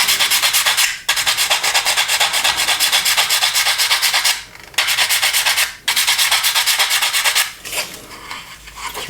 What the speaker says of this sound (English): I've already profiled the top one, so I'm just sanding that.